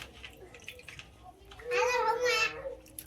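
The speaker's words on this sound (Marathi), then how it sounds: "पाण्यात टाकून घेऊ आलू." Thin-sliced potatoes dropped into water while making a bhindi-aloo fry: a short close splash and slosh lasting under a second, with faint voices in the background.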